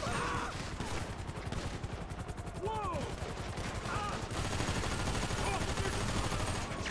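Rapid bursts of automatic gunfire ring out during a GTA 5 police shootout, dense and continuous across the clip, with chaotic game sounds layered beneath and no speech over it.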